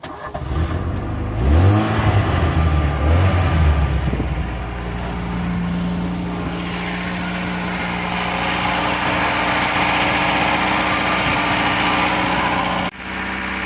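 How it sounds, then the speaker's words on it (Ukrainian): A car engine with a fully rebuilt motor cranks for a few seconds, catches almost at once and settles into a steady, even idle, loud and close with no talking. "ну і пробую заводити автомобіль."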